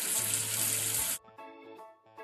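Water runs briefly from a tap in a kids' number-washing game, a steady rush for about a second that cuts off into light cartoon music tones.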